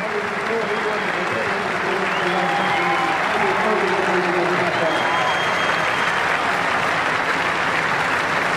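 Stadium crowd at a one-day international cricket match in Adelaide, India against Pakistan, applauds and cheers a batsman's dismissal for 141, with steady loud sustained clapping and roar throughout and faint commentary voices underneath.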